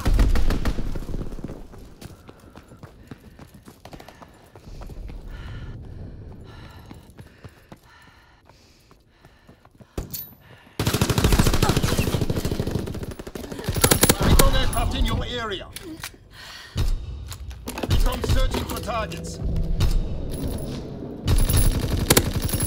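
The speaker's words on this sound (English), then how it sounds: "Fighter pilot inbound, strafing the target." Fighter plane strafing run in Call of Duty: WWII, loud rapid machine-gun bursts and gunfire clattering in dense volleys, with a quieter lull midway before heavy firing resumes, voices mixed in.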